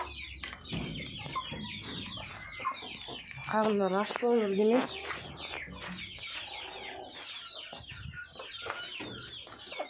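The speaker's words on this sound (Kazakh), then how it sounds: "Тауықтар" Hens and chicks on a small Kazakh poultry keeper's yard cluck repeatedly, with a louder burst of calls midway, while a person talks over them throughout.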